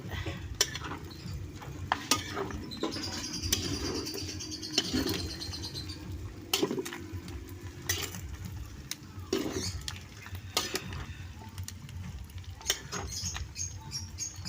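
Pork chicharon fries in its own rendered fat, giving a steady, dense crackle and patter with scattered sharp pops that continue throughout and carry no voices.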